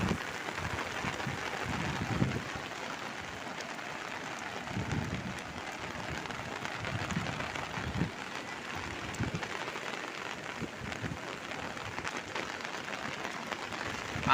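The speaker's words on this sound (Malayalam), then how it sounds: "മുഴുപ്പിലങ്ങാട്ട് മഴ മഴ" Rain falls at Muzhappilangad beach, a steady hiss of drops across the whole stretch with faint distant voices and occasional soft thuds underneath.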